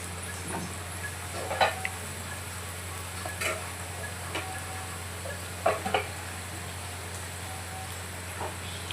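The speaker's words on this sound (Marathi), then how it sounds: "छान आलं फ्राय करून घेऊ आपण।" Ginger frying in a pan while breakfast appe are prepared, a soft steady sizzle with scattered light ticks and spoon scrapes, fairly quiet and close.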